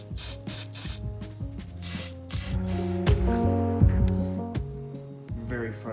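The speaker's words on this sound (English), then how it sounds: "Start with some WD-40" An aerosol can of WD-40 is sprayed onto the V-band clamp of an RB25 exhaust manifold on an S14, with several short hissing bursts, then a longer spray, close and fairly loud, alongside low mechanical rattling.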